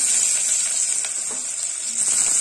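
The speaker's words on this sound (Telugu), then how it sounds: "ముందుగా మనం కట్ చేసి పెట్టుకున్న ఉల్లిగడ్డను కూడా వేసేసుకోవాలి" Chopped onions land in a pan where dried red chillies and curry leaves are already frying, a steady loud sizzle filling the whole moment for a bottle gourd curry.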